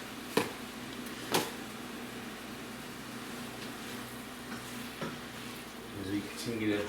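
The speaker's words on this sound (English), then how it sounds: "As we continue to wait for this meat to brown" Ground meat browning in a pot for chili, a steady close sizzle and crackle with a couple of scraping stirs, and a voice briefly talking near the end.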